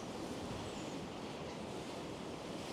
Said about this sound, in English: despite the wind and how fierce these waves are